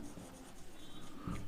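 Pen or chalk writing by hand while working a Class X maths problem on sphere and cone volumes, a soft continuous scratchy rubbing in short strokes, faint and close.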